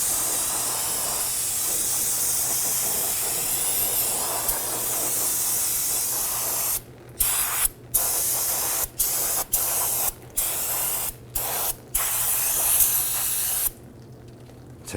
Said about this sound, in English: spray this down with some spray solvent and clean up all the old brake dust